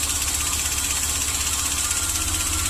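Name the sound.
Chevy Express van engine idling with occasional tailpipe pop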